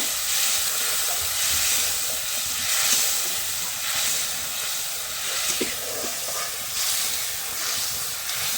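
Spiced masala hisses loudly and steadily in a pan after water is poured in, a constant broad sizzle with a few faint clinks and no talking.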